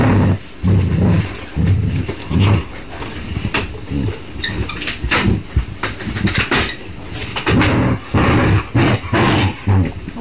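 Several puppies bark and growl close by in repeated bursts, overlapping and continuous throughout the ten seconds.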